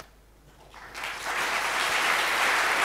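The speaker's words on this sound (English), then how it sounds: "A big round of applause." Applause from a conference audience at EuroPython 2019 lightning talks swells from quiet to a steady, dense clapping that carries on to the end.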